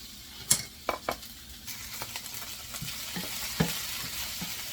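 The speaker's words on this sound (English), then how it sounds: "Give them a quick stir." Lobster tails stir-fried in a hot pan: a steady background sizzle with several sharp utensil scrapes and clacks against the pan, irregularly spaced, close and fairly quiet, no voices.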